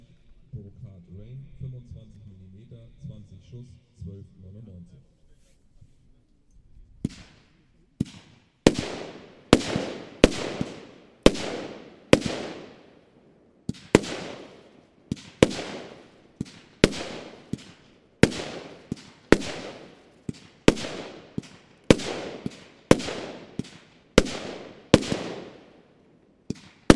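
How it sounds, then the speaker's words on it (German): A Brokade Rain 25 mm firework battery fires twenty shots in a steady series of sharp booms, each trailing into crackling decay, after a short stretch of someone talking. "Weiter mit der 32, Brokade Rain, 25 mm, 20 Schuss"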